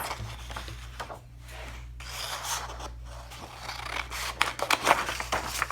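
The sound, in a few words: cutting paper with scissors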